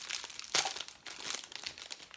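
Plastic wrapping crinkles and rustles close by as a Starbucks tin holding masking tape is unwrapped, with one sharper crunch amid steady handling.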